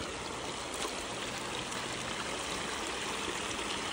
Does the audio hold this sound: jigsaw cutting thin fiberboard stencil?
no